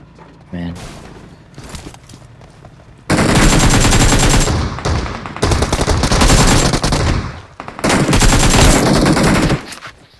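Gunfire in the PUBG video game, from a shotgun, with three long loud bursts of rapid shots separated by brief pauses and a quieter stretch at the start.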